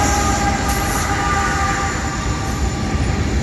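A CSX mixed freight train rolls past closely with distributed power locomotives, a dense, loud rumble of wheels and engines filling the scene with a faint high horn-like tone above.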